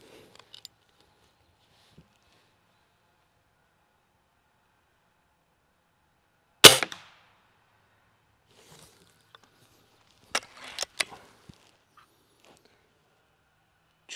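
A Cometa Fenix 400 air rifle at 24 joules fires a single sharp crack in near silence, followed moments later by a cluster of clicks and clatter from cocking and reloading the break-barrel.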